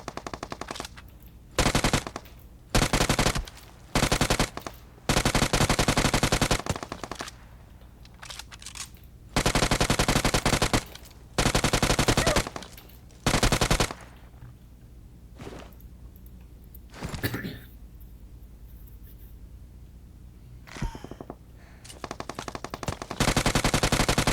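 Automatic gunfire from UMP and M4 weapons in a shooter video game, loud repeated bursts of rapid shots separated by short pauses, with a few single cracks and quieter gaps later on.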